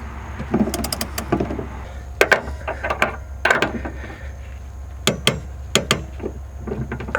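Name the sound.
torque wrench tightening Ford Mustang rear shock bolt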